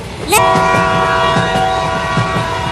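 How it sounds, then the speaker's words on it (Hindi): A train passes loud and close on the railway track with a sustained blaring horn over rhythmic wheel clatter. "ये ट्रेन तो रुक ही नहीं रही"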